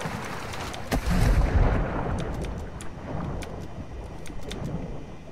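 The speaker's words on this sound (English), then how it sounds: "You are taking effective fire." Gunfire and blasts in a military video game, a sharp loud report followed by a rumbling burst, then scattered distant cracks over continuous battlefield noise.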